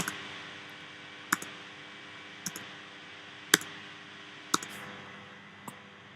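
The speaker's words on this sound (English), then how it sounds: "I can triple click and actually just hit delete or backspace on my keyboard" Computer mouse clicking while working with shapes in SketchUp: sparse, sharp clicks in small clusters, with triple-click bursts spaced a second or more apart over a quiet background.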